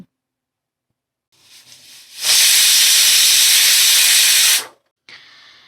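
A pressure cooker boiling goat liver vents steam in a loud, steady hiss lasting a couple of seconds, preceded by a softer build-up and followed by a brief quieter burst.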